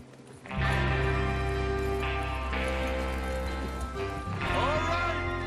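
Horses gallop at speed in the video game Red Dead Redemption 2, with a steady rumble of hooves, joined by a short whinny, all loud and close with a cinematic game-like quality.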